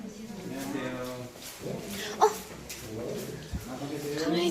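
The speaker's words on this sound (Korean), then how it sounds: "강아지다." A puppy at a guide dog school yips and whimpers in short bursts, close by and fairly loud, while several people talk and greet each other throughout.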